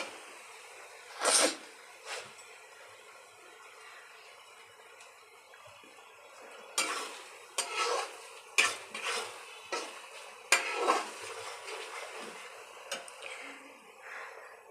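A spoon stirs grated coconut in a pan while cooking kochu shak, giving close, sharp metallic scrapes and clinks in irregular bursts against a quiet background, with no talk.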